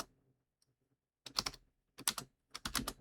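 Bursts of computer keyboard typing in three separate flurries of rapid, close clicks, with near silence between them and no talking.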